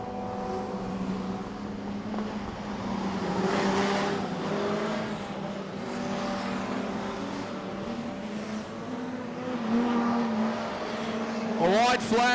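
Modified production race cars lapping Maryborough Speedway, their engines droning steadily with a passing whine near the end, under continuous excited race commentary.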